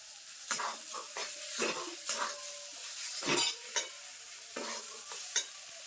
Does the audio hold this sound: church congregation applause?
no